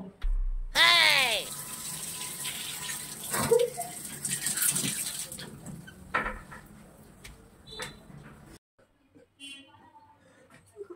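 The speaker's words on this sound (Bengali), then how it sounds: "আর কলটা খুলে রেখে দিয়েছিস কেন? ছটছট করে জল পড়ছে।" An open bathroom tap left running, water gushing in a steady hiss for several seconds before stopping abruptly, with a voice talking over it and quieter sounds afterward.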